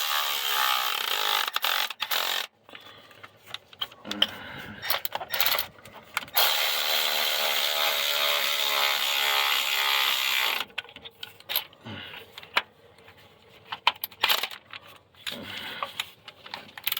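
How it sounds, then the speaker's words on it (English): Work on a Pontiac G6 starter: bursts of ratcheting and wrench clatter alternate with a sustained whirring power-tool run as brackets are bolted back on, close by with uneven pauses between. "Putting the brackets back on."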